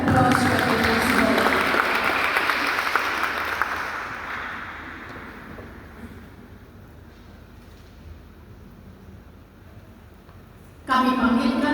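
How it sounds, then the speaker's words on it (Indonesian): Audience applause at an adult church lector competition finals, loud and dense at first, then tapering into a long quieter stretch of scattered clapping before a sudden loud burst of clapping returns at the end. "Kita berikan aplaus bagi Yesus"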